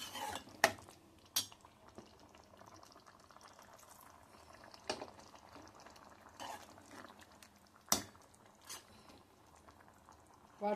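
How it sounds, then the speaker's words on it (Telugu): Prawn masala curry boiling in a pan, a faint continuous bubbling close by, punctuated by several sharp clicks and clinks of utensils against the pan. "ఇలా ఉడుకుతుంది కదండి"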